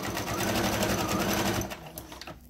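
Sewing machine stitching rapidly through thick fabric layers for a cast iron skillet handle cover, a loud steady mechanical chatter that slows and stops near the end, with no talking.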